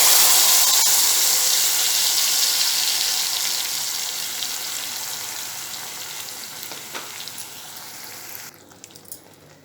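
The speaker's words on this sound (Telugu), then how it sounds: "ఆవాలు, ఎండుమిర్చి ఫ్రై అయిపోయాయి కదా, సో నేను డైరెక్ట్గా దీనిలోని ఈ గ్రేవీ ఏదైతే ఉందో అది వేసేస్తాను." Ground gravy hits a hot pan of fried mustard seeds and dried red chilies, giving a loud, hissing sizzle that fades steadily over several seconds, with no voices present.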